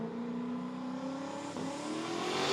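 Radial drag racing car launching at full throttle at Willowbank, Australia, a loud rising engine roar that climbs in pitch over a couple of seconds and swells louder toward the end.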